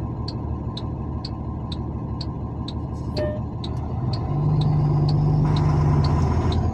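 Car engine running in Estância, Sergipe, with a burst exhaust muffler pipe: a steady, throaty idle with regular ticking pulses that grows louder and rougher near the end, with no talk.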